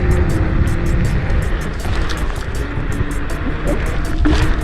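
An Ausom Leopard electric scooter ridden around a school parking lot, with steady rushing wind and road noise throughout and a faint rhythmic ticking above it.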